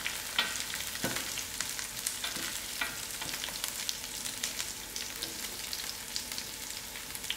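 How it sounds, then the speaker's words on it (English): Whole garlic cloves and green chilies fry in hot oil in a pan, a dense crackling sizzle with scattered sharp pops throughout, close up and steady, with no one talking. "Give it a few minutes to fry."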